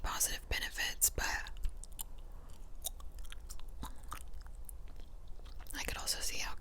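Gum is chewed close to the mic in a whispered ASMR setting, with soft moist smacks and clicks spread through the clip, some sharper crunchy bursts near the start and end, and no spoken words.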